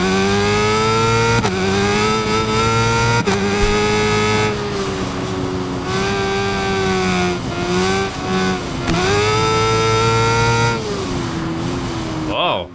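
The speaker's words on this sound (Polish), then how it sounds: "posłuchajcie motocykla" A motorcycle engine in the video game Ride 5 revs and shifts repeatedly, pitch climbing and dropping with each gear change, loud and close, with a voice talking over it.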